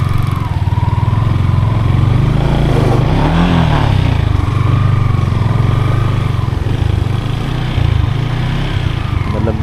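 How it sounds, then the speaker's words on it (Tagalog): Motorcycles ride through a traffic jam on a damaged road in the Philippines, their loud engines droning and revving close by for the whole stretch, one rising and falling pass mid-way, with no talking. "Mga motor okay lang, makakapasok pa ang motor."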